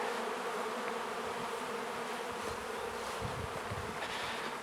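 Honeybees buzz around a homemade 12-frame hive, a dense, continuous drone of many insects that stays steady and fairly close with no voices.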